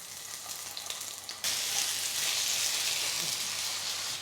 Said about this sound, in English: And in a hot pan we start to fry.